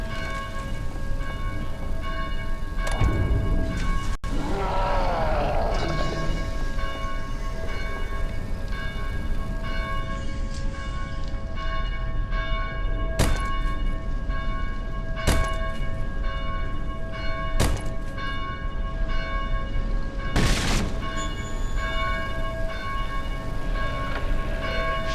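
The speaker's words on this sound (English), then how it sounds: "Please help us silence these bells." Church bells ring from a belfry in Dead Island, sustained steady peals with sharp repeated strikes layered over continuous background game ambience, loud and close, with no voices.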